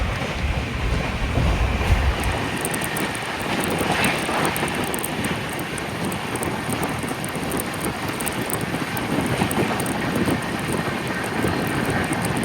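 Heard from on board, the Jan Shatabdi Express 12078 runs at speed between Vijayawada and Chennai, with a steady loud rumble, rushing wind and faint rhythmic wheel clatter.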